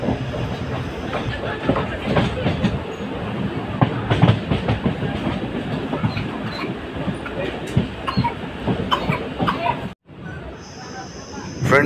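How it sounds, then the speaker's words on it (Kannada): A passenger train on the Hospete–Davanagere line pulls into Bennehalli station, its wheels clattering loudly and steadily with occasional squeals and rattles before a brief cut near the end. "ನಮ್ಮ ಟ್ರೈನ್ ಈಗ ಬೆಣ್ಣೆಹಳ್ಳಿಗೆ ಬಂದಿದೆ."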